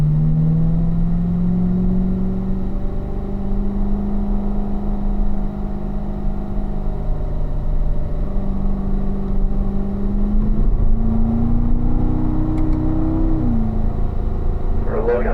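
A car engine drones steadily and pulls up through the gears, its pitch climbing and dropping at each shift on a driving run. A voice talks over the engine.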